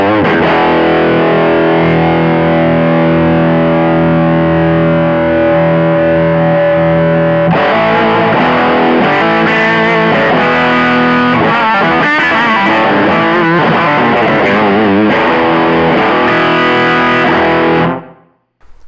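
An electric guitar played through an East Amplification Studio 2, a 2-watt amp powered by preamp tubes, gives loud, distorted sustained chords and riffs that ring for many seconds before cutting off at the end.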